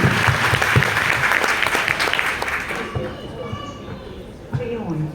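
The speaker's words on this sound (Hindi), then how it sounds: "तो अपने लिए भी एक बार ताली बजाएं" Audience applause at a Mukhya Sevika honour ceremony in Lucknow, a dense round of clapping for about three seconds that then thins out and fades, with voices and a few scattered claps rising near the end.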